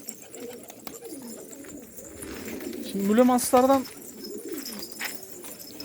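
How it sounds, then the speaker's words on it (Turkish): Fancy pigeons in a loft keep up a low, steady cooing while someone talks briefly over them near the middle. "Yo bu kuş ötüyor bile baksana ya."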